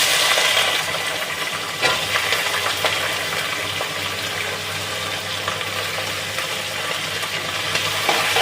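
Onions sizzling and frying in a hot pan while being stirred, a loud continuous hiss with scraping stir sounds throughout and no talking.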